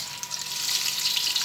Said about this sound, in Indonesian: kita aduk dulu